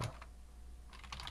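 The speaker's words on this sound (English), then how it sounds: "What if I type VGA info?" Quick burst of keypresses on a computer keyboard at the start and again near the end, with a quiet gap between, close and moderately loud with no talking.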